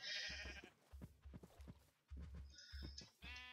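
Sheep bleating in Minecraft, a series of repeated short bleats in quick rhythm, fairly close, with a couple of sustained calls at the start and end.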